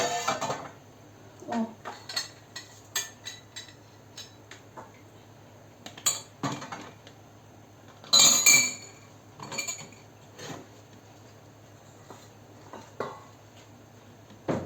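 Plum nectar with pulp being ladled into glass jars, with repeated light glass clinks and knocks of a ladle against the rims, irregular and close, with a louder cluster of clatter midway and quiet pauses between.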